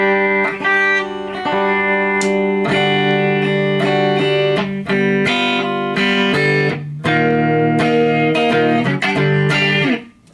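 An electric guitar plays chords and single notes with a slight overdrive grit, dry and upfront with no echo trailing after the notes.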